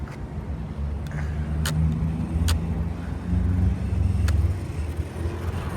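A 1996 Tonka XRC Pro Speed radio-controlled car drives on its beginner speed setting, giving a steady low motor rumble that swells and eases, with a few sharp clicks and knocks, fairly close and without talking.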